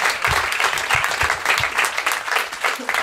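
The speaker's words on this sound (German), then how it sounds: "Ey, Applaus" Steady applause from a comedy club audience at a live stand-up show, dense clapping with a crowd murmur running through, fairly close and sustained, with brief voices mixed in.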